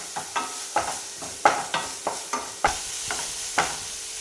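Sliced onions sauté in a pan under a soft steady sizzle, punctuated by a regular series of about ten spatula scrapes and knocks, close and clear, no talking.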